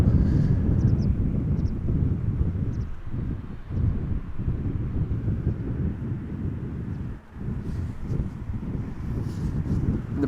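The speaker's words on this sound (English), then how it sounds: "Embraer 190 arriving from Edinburgh" An Embraer 190 jet arriving from Edinburgh at Amsterdam Schiphol rumbles from a distance, a broad low roar mixed with wind buffeting on the microphone, steady with slight swells and no talking.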